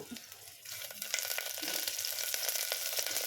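Lentils and gram dal crackle as they fry in hot oil in a pan, the start of a puri curry; a steady, close sizzle with light scraping stirs and small pops, growing slightly louder after the first half-second.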